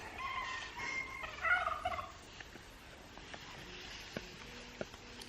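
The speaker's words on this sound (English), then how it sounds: "Turkey sailing around to impress his lady." A male turkey gobbles while strutting around a hen among chickens, giving a loud, rippling burst of gobbles early on, followed by a few faint clucks and soft calls.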